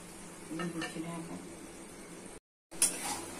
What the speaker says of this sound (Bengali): ছোলার ডাল আর আলু কষে কষে রান্না করে দিতে হবে।